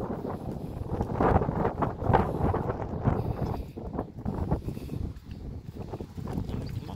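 Wind blows outdoors in rural Fielding, New Zealand, gusting and buffeting the microphone as a rough, rumbling rush that swells and dips over several seconds at a moderate level.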